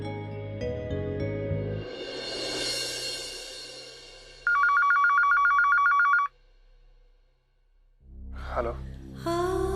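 A telephone rings in a rapid trilling burst for about two seconds, loud and near, between stretches of background music and a sigh.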